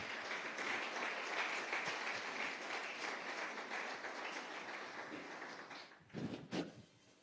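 A church congregation applauds in praise. Sustained, dense clapping fills several seconds, then thins toward the end with a few louder scattered claps.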